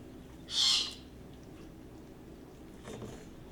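A single short, high bird call rings out once in a quiet room, followed by a faint softer chirp a few seconds later.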